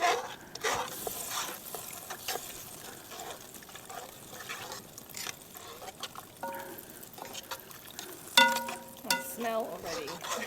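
A pot of lamb shanks with herbs is stirred, a wet, bubbling sloshing with a soft sizzle and a few clinks of the spoon against the pot, quiet and close.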